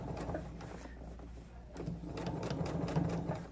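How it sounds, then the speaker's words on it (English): A sewing machine basting an exposed zipper gives short bursts of quick, rhythmic stitching with brief pauses and handling clicks, fairly quiet and close, with no talking. "I'm going to continue basting."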